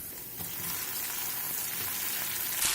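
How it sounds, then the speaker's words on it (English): Onions and tomatoes fry in hot oil for a gravy, giving a continuous soft sizzle and crackle that holds steady throughout, fairly quiet and close, with no talking. "fry the onions in hot oil till they are light brown in color"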